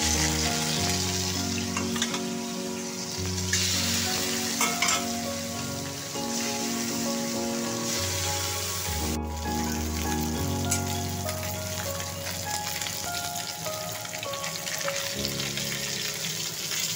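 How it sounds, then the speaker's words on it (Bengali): Fish fry one by one in hot mustard oil in a kadai, giving a constant crackling sizzle like light rain, moderately quiet, with occasional clinks and shifting background sounds layered over it. "তেলটা গরম হলে মাছগুলো একে একে সব ভেজে নেব।"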